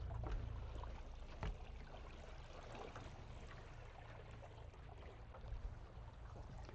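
A boat trolling motor hums quietly and steadily beneath water lapping and wind on an open reservoir, faint and continuous with a brief knock partway through.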